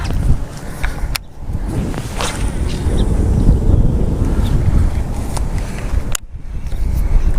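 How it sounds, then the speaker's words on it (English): Strong wind buffets and roars across the microphone on a bass-fishing boat, a loud, continuous gusting rush that barely lets up, with no talking. "the wind is so bad right now"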